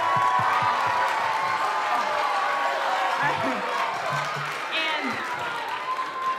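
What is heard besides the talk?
audience applause for sixth grade band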